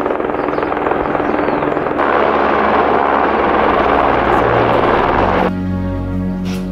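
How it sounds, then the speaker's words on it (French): A loud helicopter delivering food drones and thumps close by in Mafate, Réunion, steady and continuous, its engine pitch shifting near the end. "il y a un hélicoptère qui a... Qui ramène à manger?"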